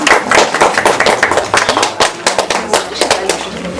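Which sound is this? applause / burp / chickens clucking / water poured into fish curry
applause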